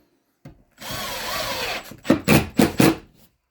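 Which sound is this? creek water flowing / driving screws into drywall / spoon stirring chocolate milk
driving screws into drywall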